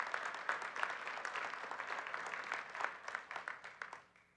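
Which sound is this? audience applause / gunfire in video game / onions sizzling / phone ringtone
audience applause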